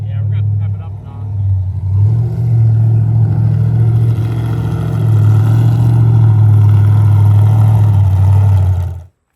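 A Cummins diesel burnout truck on nitrous roars up after a brief quiet start, holding a loud, heavy engine drone with swelling pitch for several seconds before cutting off abruptly.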